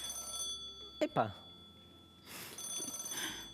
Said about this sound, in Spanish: Teléfono. Me llama alguien.